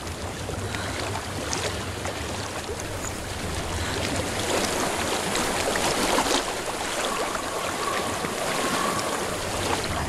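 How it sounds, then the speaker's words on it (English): Water flows steadily in Hellblade: Senua's Sacrifice, a loud, broad rushing wash with a breezy edge that swells slightly midway and carries on unbroken. "I hear water."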